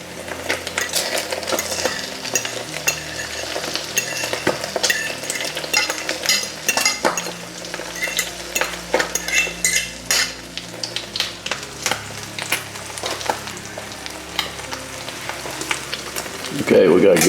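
Eggs, rib meat and onions fry in ghee in a pan for an omelette, with a steady close sizzle and crackle broken by scraping stirs and light utensil clinks, growing louder at the end.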